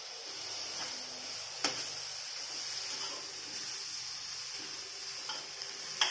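Cauliflower fries in a pan with a steady soft hiss while it is stirred, and a few sharper scrapes and knocks of the spoon stand out at moments, with no talking.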